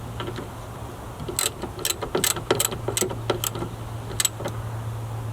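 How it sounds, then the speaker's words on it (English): A socket wrench ratchets as it snugs a bolt holding a Subaru Outback side mirror into plastic and brass, giving sparse, uneven bursts of close metallic clicks over a steady low electrical hum. "Go ahead and finish it up with the socket wrench."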